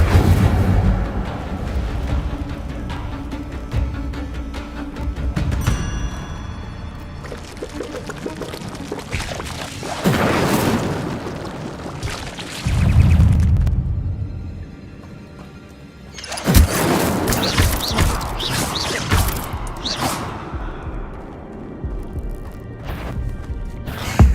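Incendio fire spell in Hogwarts Legacy, cast inside a cave, whooshing roaring blasts of flame that surge in loud bursts with crackling bright edges, separated by quieter stretches of ambient rumble.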